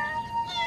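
A cat's meow in a children's cartoon about a bunny, heard as a short, soft, sustained call standing alone.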